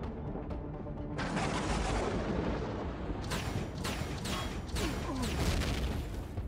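Gun turrets firing in Empyrion Reforged Eden: a steady mechanical rumble gives way to a rapid string of sharp, loud shots repeating in quick succession, with heavy booming impacts underneath.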